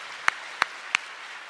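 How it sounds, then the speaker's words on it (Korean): Audience applause at a live public broadcast recording in Korea: a steady, moderate wash of clapping with three sharper, closer claps standing out at even intervals over about a second and a half, no voices. "다시 한번 큰 박수 보내주시기 바랍니다"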